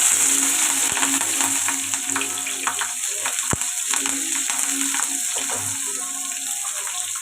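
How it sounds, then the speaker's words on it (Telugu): Chopped onions and green chillies fry with cumin seeds in hot oil for a taro curry. A steady, close hiss of sizzling runs throughout, with light stirring scrapes and no talk. "ఇప్పుడు ఫ్రై అవ్వాలి ఉల్లిపాయలు"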